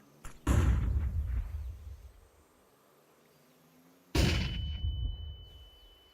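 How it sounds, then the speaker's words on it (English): A flashbang grenade in Counter-Strike 2: two sharp, loud bangs a few seconds apart, each followed by a booming decay, with a high ringing tone lingering after the second. "I'm throwing a flashbang"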